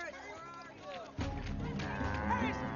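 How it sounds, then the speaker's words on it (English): A bull bellows loudly as men lead it away, a long deep lowing call that swells and holds over shouting voices and scuffling. "They're taking your bull!"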